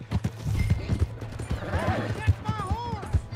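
Horse hooves clip-clop in a steady rhythm in Red Dead Redemption 2, close and moderately loud, mixed with game voices talking and a horse's whinny.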